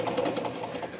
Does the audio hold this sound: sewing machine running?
yes